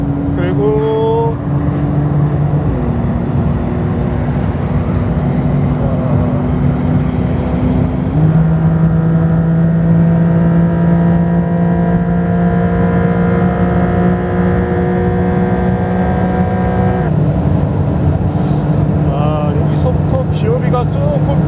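A 992-generation Porsche 911 Carrera 4 GTS drives straight ahead on the road, its engine humming loudly and steadily from inside the cabin, with a few clear pitch steps as it changes gear.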